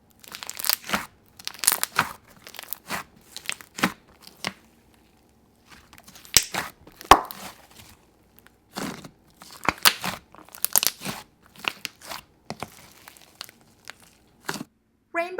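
A crunchy slime being squeezed and worked by hand, crackling and popping in close, irregular bursts with quiet gaps between them.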